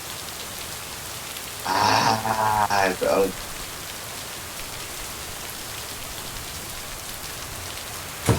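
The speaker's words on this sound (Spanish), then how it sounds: "día de lluvia" Steady rain falls in the video game Lake as a constant close patter on surfaces throughout, while someone speaks briefly partway through.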